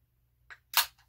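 A soda can is cracked open: a small click, then a sharper, louder pop-hiss a moment later, both close and alone in an otherwise quiet room.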